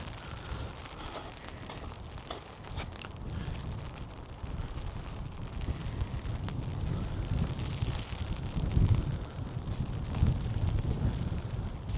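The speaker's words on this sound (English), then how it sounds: "Really, really windy. The wind here, very, very, very strong." Blustery wind buffeting a microphone, a low, rough roar that swells and gusts stronger toward the end, with no voices.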